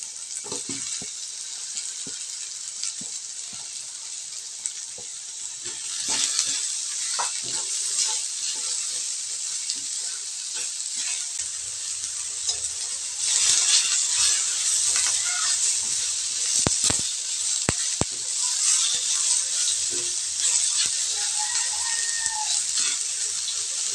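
Onions frying in a pan for a Bisaya-style fish innards dish, a steady bright hiss of sizzling oil running throughout with occasional clinks and scrapes, no talking.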